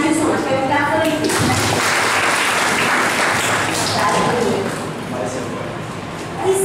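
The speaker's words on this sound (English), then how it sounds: "Can you clap for me?" Applause from a school audience after a student introduces himself at a business etiquette session, a dense, fairly steady clapping that carries through most of the clip, with voices mixed in and the clapping thinning toward the end.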